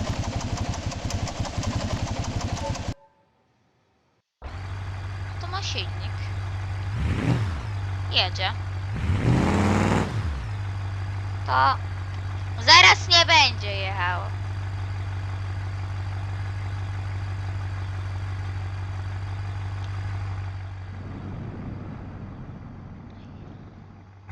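A low car engine hum runs steadily after a brief silent gap, during a crash test with a stone, with excited voices and short bursts of speech over the top.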